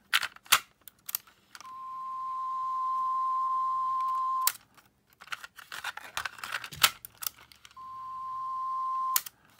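A 1000 Hz test tone played back from a cassette tape, a steady pure beep sounding alone for a few seconds, twice, broken up by clicks and handling noises from the tape deck between the tones.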